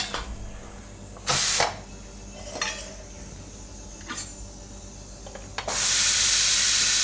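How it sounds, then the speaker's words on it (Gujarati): A pressure cooker of cooked urad dal being opened in a home kitchen: short bursts of steam hiss and metal lid clatter, ending in a loud sustained hiss. "ત્યાં સુધીમાં આપણે દાળને ખોલીને કુકર જોઈ લે હું."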